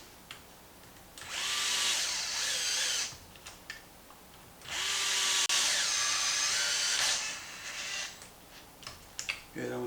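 Power tool driving a medium-length screw into a Traxxas Maxx front bulkhead, two sustained whirring bursts of a few seconds each, close and loud, separated by quiet handling clicks and faint talk.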